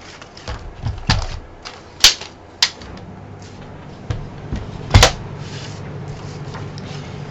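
Paper being cut for a handmade folded card, heard as a few short, sharp snips and rustles close by in an otherwise quiet room.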